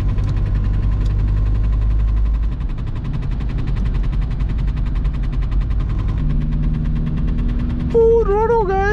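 A VW Golf 3 1.9 TDI 90 HP diesel at full throttle in fifth gear on a rainy drive, heard from inside the cabin as a loud, steady, low engine drone with rattly vibration and road noise throughout, without speech.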